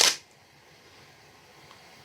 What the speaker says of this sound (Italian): effettuiamo anche un altro scatto